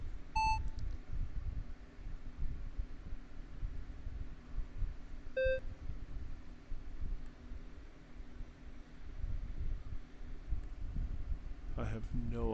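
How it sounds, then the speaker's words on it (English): A Radical SR10 race car in a racing sim on the Nordschleife gives two short electronic beeps a few seconds apart over a low, steady engine drone, with a brief rattle near the end. "I have no idea what why the car is beeping at me."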